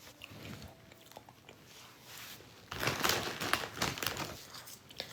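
Potato chips being eaten close to the mic, with crinkly crunching bursts that grow louder and denser in the second half, mixed with soft chewing and no talking.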